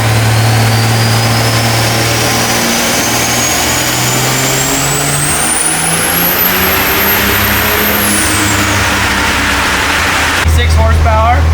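Car engine running hard on a dyno, a loud continuous roar climbing steadily in pitch as it revs up, then dropping off sharply near the end.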